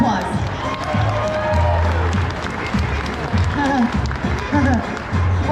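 Audience applause at an oddities and curiosities expo in Louisville, Kentucky, greeting a volunteer on stage; steady crowd clapping with some cheering, with a host's voice talking over it.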